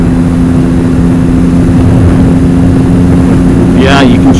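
A 2011 Triumph Speed Triple motorcycle engine drones steadily while riding with a 200 rear tire, loud and constant with wind rush, and a rider's voice briefly cuts in near the end.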